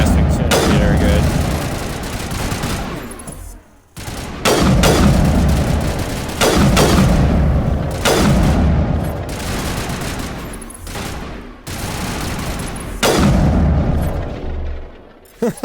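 Heavy weapon fire from the Mass Effect 2 sci-fi shooter, a series of loud booming shots in bursts roughly every two seconds over dense game noise, with talk layered beneath.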